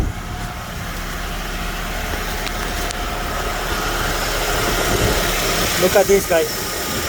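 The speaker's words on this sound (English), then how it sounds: "we start the engine to run the AC" A Honda Element's engine runs at a steady idle with the air conditioning on, a low constant hum that carries on throughout while someone talks over it and a few short clicks come near the end.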